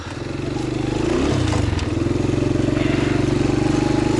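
A frozen boat outboard motor being cranked sputters and chugs steadily with a low, rough rhythmic drone, loud and close, with a brief clattering bump near the start.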